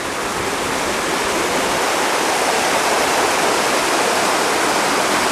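A steady, roaring rush of water from the lower falls of a waterfall on a hiking trail in Kori, Tokyo, Japan, pouring into a pool, loud and unbroken throughout, with no voices.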